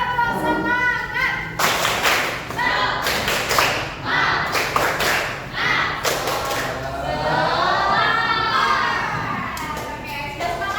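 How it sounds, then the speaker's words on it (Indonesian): A primary-school class doing rhythmic clapping, bursts of sharp hand claps in a patterned beat alternating with children chanting together, close and lively. "Oke, tepuk semangat."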